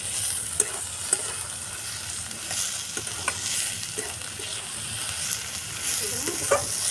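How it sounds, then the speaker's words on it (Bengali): Ash gourd cooks down with coconut in a pan until dry. A steady close sizzle runs throughout, with regular scraping and tapping from stirring and no talk. "একদম শুকনো শুকনো করে রান্না করতে হবে ভাজি কুমড়ো নারকেল দিয়ে"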